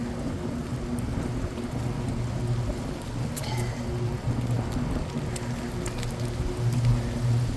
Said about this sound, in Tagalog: Yan ang ulan, no?